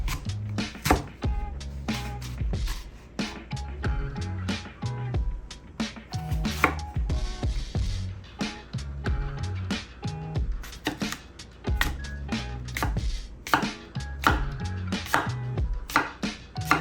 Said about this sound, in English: I need to get the cores out of these apples and get them sliced up